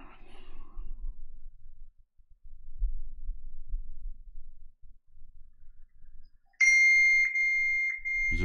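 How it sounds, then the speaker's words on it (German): A mobile phone beeps repeatedly, a bright electronic tone that cuts in near the end after a long stretch of near silence and faint low rumbling, repeating in short pulses. "Wieso piepst mein Handy die ganze Zeit?"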